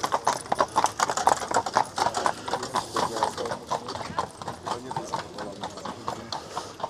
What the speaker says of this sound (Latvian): Te mūs ik pa brīdim apdzen zirgu pajūgi.